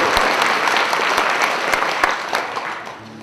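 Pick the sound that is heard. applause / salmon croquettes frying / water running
applause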